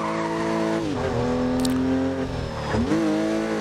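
Car engine in the racing game Ridge Racer Unbounded drives along a freeway, loud and steady, the pitch dipping and rising through gear changes with a brief tire squeal.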